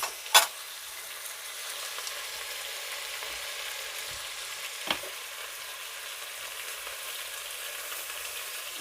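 Tomatoes and tomato paste fry in a pot for beef pilau, giving a steady, even sizzle throughout, broken by a sharp utensil clink at the start and another faint knock midway, no talking.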